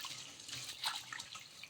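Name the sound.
water being drained from rice after washing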